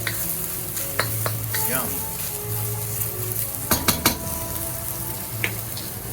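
Mushrooms sautéing on top of peppers in a pan for kung pao tofu, a steady sizzle broken by scraping stirs and several sharp utensil clacks against the pan, close up, with one brief spoken word.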